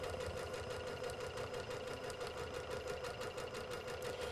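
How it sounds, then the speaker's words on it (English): A sewing machine stitches fabric for a gift bow with red thread, a quiet, steady mechanical whir with a fast, even pulse running without pause. "lower my foot if I need to readjust the placement, and then begin sewing"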